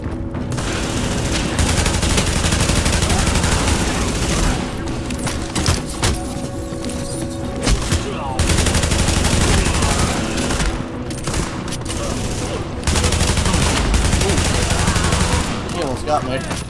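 Enemies armed with shotguns in the video game The Division fire in sustained, loud, dense gunfire, with bursts of shots layered over each other almost continuously.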